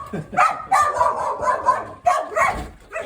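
A small cockapoo barks in short bursts, close by, several times in a few seconds, with a person speaking over and between the barks.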